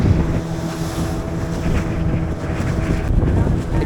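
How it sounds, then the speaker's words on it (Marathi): Strong wind buffeting a fishing boat at sea while prawn fishing, a loud continuous roar of gusts against the microphone with waves and engine rumble beneath. "तसंच वारो पण जबरदस्त लागता"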